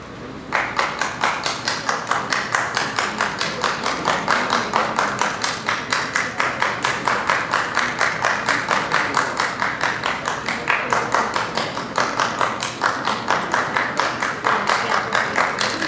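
One person, a woman at a conference, claps her hands alone for fifteen seconds in a fast, steady, even rhythm of crisp close claps.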